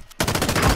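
A gun fires in an online shooter during a 2v2 private match: a sharp onset into a rapid, loud automatic burst of closely spaced shots lasting under a second, with no speech.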